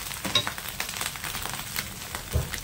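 A fasting dosa fries in a pan on high flame, giving a steady soft sizzle throughout, fairly close, with a slightly louder crackle near the end and no talk.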